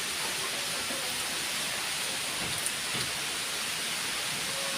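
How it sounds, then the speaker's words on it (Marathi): Steady rain falls without pause in the town of Erandol, a dense even hiss with soft patter on surfaces and no voices. "एरंडोलला सध्या रोज पावसाची हजेरी सुरू आहे"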